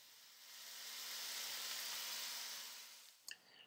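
Cajun-seasoned fish hits a hot sauté pan and sizzles in a loud, steady hiss that swells and then fades, with a faint low hum beneath and a couple of small clinks at the end.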